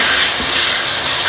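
Red chili paste sizzles in hot oil for a tilapia masala, a loud, close, steady hiss of frying with no pauses.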